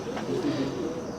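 A single short, low rolling coo from a missa pigeon, close and clear.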